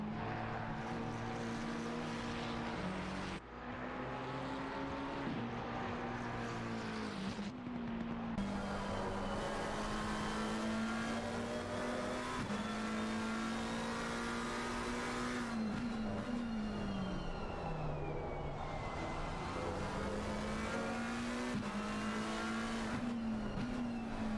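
Several racing cars in a sim racing game at the Hungaroring circuit, engines droning and revving continuously with pitch rising and falling through gear changes, loud and sustained, brief tire squeal.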